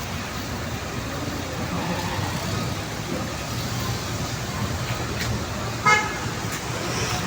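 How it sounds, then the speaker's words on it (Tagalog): Trucks rumbling past on a road during light rain after a storm, a steady roar of traffic with one short horn toot near the end. "Yung mga truck mga idol oh."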